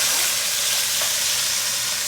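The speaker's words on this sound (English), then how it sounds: "we're going to sear our chuck roast" A chuck roast hits hot pancetta-flavoured oil in a pan for a pot roast, giving a loud, close, dense frying sizzle that hisses steadily without a break.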